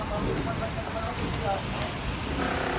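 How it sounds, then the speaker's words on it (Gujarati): Heavy rain and wind storm at Katra pours in a constant, roaring hiss with gusty low rumbling, loud and close throughout. "પવન વાવાઝોડું વરસાદ બહુ છે"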